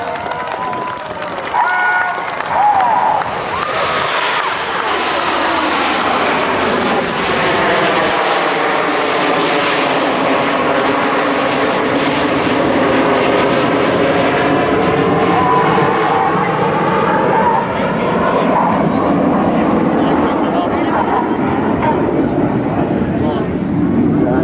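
Nine RAF Red Arrows jets fly the nine arrow roll over an air national guard open house in Rhode Island, a loud sustained roar that swells and slowly shifts in pitch as the formation passes, with crowd noise underneath.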